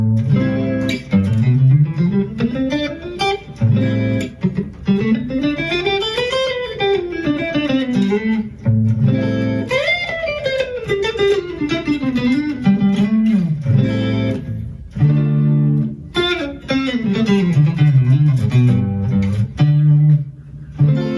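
A guitar plays a solo over the Mixolydian scale in A, with a distorted, effects-laden tone. Sustained notes glide and bend up and down in long phrases, broken by short pauses, with no talking over them.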